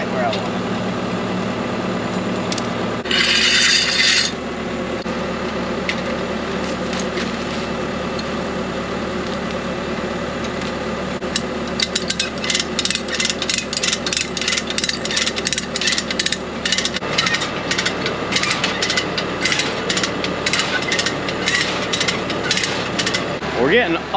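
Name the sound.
come-along winch ratcheting a strap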